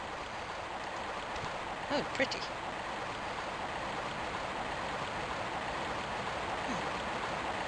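Flowing water in a video game makes a faint, even rushing that continues steadily, with a short spoken remark near the start.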